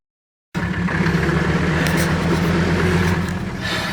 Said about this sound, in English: Yo, the Mercedes started.